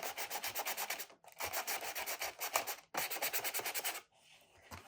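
Sandpaper scratches across a paper craft lantern in quick, rhythmic bursts of rubbing, stopping briefly twice and then fading to a softer, quieter scrape near the end.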